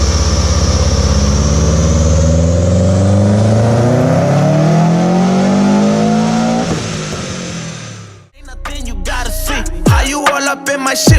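A car engine revs hard on a dynamometer, building steadily in a loud, rising howl for about eight seconds before cutting off, followed by quieter mechanical clatter and ticks as it winds down.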